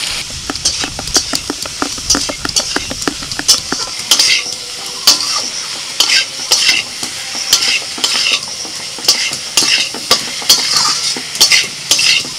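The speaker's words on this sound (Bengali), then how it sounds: "মশলার সাথে সব সবজিগুলো কষিয়ে নিয়ে" Vegetables being stir-fried with ground spices such as chilli, cumin, coriander and turmeric in a pan: a soft sizzle runs underneath while a utensil scrapes and knocks against the pan in repeated, irregular strokes, close up and without talk.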